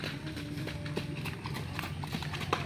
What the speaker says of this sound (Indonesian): Nah ini ada lagi satu ekor kuda nih